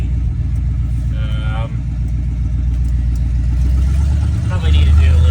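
A 1981 Chevy C10 pickup truck engine runs with a deep, steady low rumble that grows slightly louder toward the end, while people talk over it.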